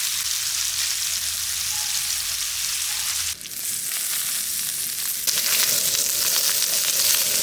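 Pomfret fish frying in a pan, a steady dense sizzle running the whole time with a brief dip partway through, then a slightly louder crackle, close and alone with no voices.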